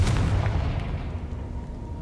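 A Confringo spell blast in the video game Hogwarts Legacy lands as a deep, booming explosion right at the start, then rumbles and fades into a low, lingering tail.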